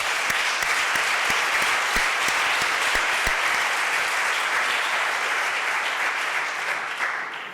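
Audience applause at a seminar, sustained dense clapping with a few sharper individual claps early on, fading slightly toward the end.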